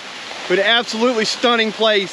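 Falls Creek Falls in the Sipsey Wilderness, running strong after a night of rain, gives a steady rushing wash behind a person speaking close up.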